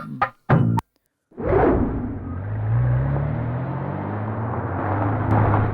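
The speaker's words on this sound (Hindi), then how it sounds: "किसकी गाड़ी है?" A car pulls up outside at night, its engine rumbling steadily at moderate distance after a few sharp knocks, a short silence and a rising motor swell.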